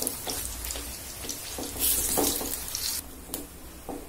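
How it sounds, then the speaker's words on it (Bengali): Cabbage balls frying in oil in a home kitchen, with a steady hiss and scattered crackles and pops, close and fairly loud, brightening in the middle as the batch sizzles harder. "এরকম লাল লাল করে ভাজবেন,"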